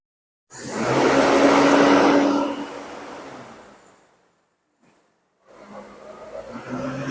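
A Daihatsu Feroza engine idling steadily with its throttle propped to hold about 2000 RPM, a loud, even drone that fades out, pauses briefly, then returns at a lower level.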